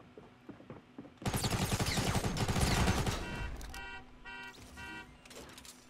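Rapid bursts of SMG fire and shotgun blasts from Fortnite Battle Royale on Xbox One, a dense loud volley lasting about two seconds, then sparser shots and tonal in-game effect sounds trailing off.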